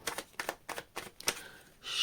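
Tarot cards being shuffled during a pick-a-card reading, crisp riffling bursts in a quick rhythm of about five strokes, close and fairly quiet, ending in a longer hissing shuffle.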